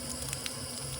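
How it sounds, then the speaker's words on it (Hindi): Water runs steadily from a drinking-water tap on a hiking trail, a faint, continuous flow with a low hum beneath it and no voices. "पानी पी लेते हैं।"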